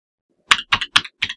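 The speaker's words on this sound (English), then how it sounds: "Then just type in your username and password." Keystrokes on a computer keyboard while a username and password are entered, four short close clicks in quick succession, each with a faint double tap, alone in an otherwise quiet room.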